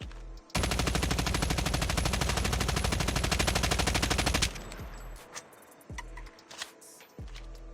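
Rapid automatic gunfire in a first-person shooter aim-training session, one loud sustained burst of about four seconds followed by a few isolated single shots and clicks.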